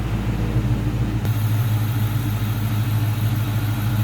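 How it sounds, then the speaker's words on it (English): A 2003 Ford Mustang GT V8 idles steadily with its hood open, a constant low rumble that stays even and close throughout, with no revving and no voices. "listen to this baby run"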